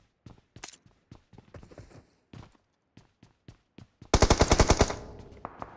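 P90 submachine gun fire in PUBG Mobile during a tournament final: a long, rapid burst of loud automatic shots, preceded by scattered single shots and light clicks.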